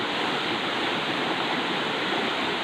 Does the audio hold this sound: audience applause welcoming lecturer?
no